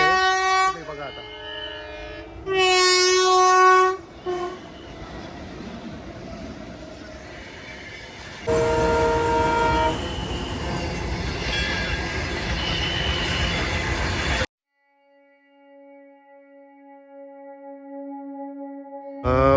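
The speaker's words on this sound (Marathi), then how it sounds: "आता इथनं ट्रेन जाते." A train passes close by on railway tracks beside a temple, with loud horn blasts, rumbling wagons and squealing wheels, a long roar that cuts off abruptly and leaves a fainter tonal horn afterward; people talk at times.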